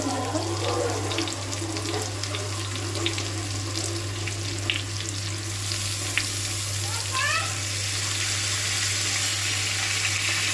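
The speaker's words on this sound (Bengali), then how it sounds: "চালটা দিয়ে চালটা একটু ভাজা ভাজা হতে হবে" Rice and potatoes fry in oil with a constant loud sizzle, broken by occasional clinks and stirring sounds, with no voices.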